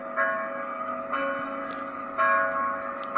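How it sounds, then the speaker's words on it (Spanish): Church bells ring announcing Mass in slow, evenly spaced strokes, each tone hanging and overlapping the next, with no talking. "Llegando a la iglesia, se escucharon las campanadas que anunciaron la misa."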